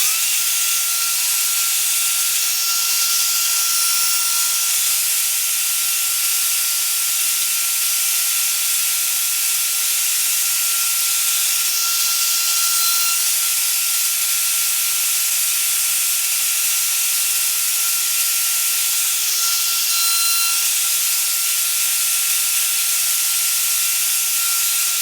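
A router cutting dovetail shoulders in wood on a WoodRat jig, a steady loud high-pitched whine that holds without pause, with faint shifts in load as the cut proceeds and no talk.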